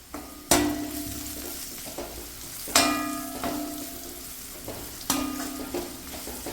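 Onions and asafoetida sizzle steadily in a pan for dal curry, with three sharp scraping stirs of a spoon against the pan at regular intervals over the frying.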